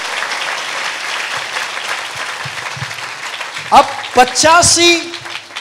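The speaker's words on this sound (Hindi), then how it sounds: "कंजूस लोग ताली तो बजाइए।" Church congregation applause, a sustained clapping wash from a crowd that gives way to someone speaking loudly near the end.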